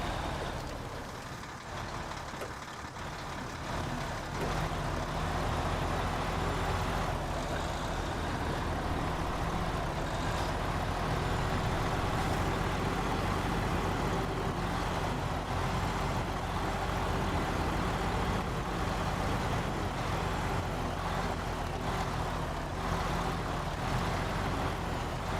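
A truck engine drones steadily while straining in high gear during a driving game, a dense, continuous low rumble that holds at a loud, even level with no break.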